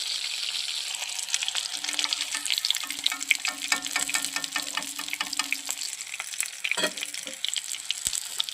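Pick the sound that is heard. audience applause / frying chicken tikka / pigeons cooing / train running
frying chicken tikka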